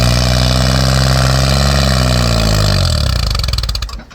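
A Kubota L3408 DI three-cylinder direct-injection diesel tractor engine runs steadily up close with a deep, even throb, then winds down and cuts off near the end.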